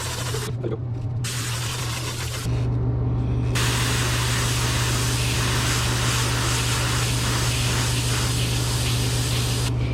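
An airbrush hisses steadily as it sprays paint over a flag stencil, a loud close continuous spray with a low compressor hum underneath and short pauses early on.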